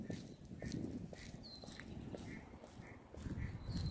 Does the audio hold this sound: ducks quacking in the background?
yes